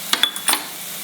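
A spoon stirs Kolhapuri masala and spices in a frying pan for bitter gourd bhaji, giving a few quick metallic clinks and scrapes up close, then a faint sizzle.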